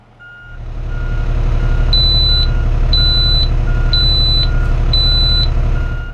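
A refuse truck backs up with its reversing alarm sounding a steady series of loud, evenly spaced beeps over a heavy, close engine rumble.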